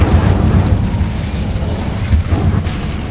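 Spell blasts from Incendio and Confringo in the Hogwarts Legacy video game, a loud continuous rumbling burst with booming, explosive low-end and crackling noise throughout.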